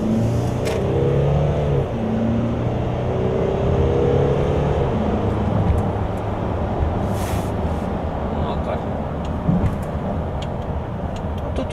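A 2016 Mercedes-Benz GLC 220d diesel engine drones steadily and loudly, rising in pitch as it accelerates at night with the automatic gearbox, with continuous road and motor noise throughout and no voices.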